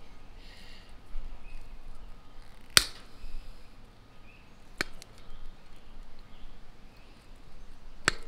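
Trailer wiring snipped with cutters: three crisp, isolated snaps spread several seconds apart, close by, over a faint outdoor hiss.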